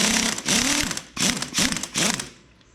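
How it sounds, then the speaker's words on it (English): A wrench and socket ratcheting on bolts of a 383 stroker engine for a 1970 El Camino make several loud, close clicking bursts, three or four quick ratchet runs separated by short pauses. "I'm gonna have to break some of those loose with a wrench first, I think."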